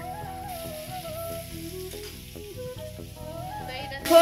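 Flat beans and potatoes fry in a pan for breakfast, giving a steady, close sizzle over a tonal background, with a brief louder burst at the very end.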